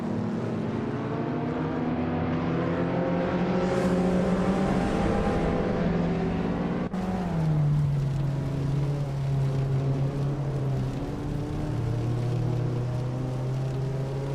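A lightweight mid-engine Vauxhall VX2 20 Turbo race car in a racing video game, its engine droning loud and close with rising revs, a sudden shift near the midpoint, then a steady lower-pitched hum carrying on to the end.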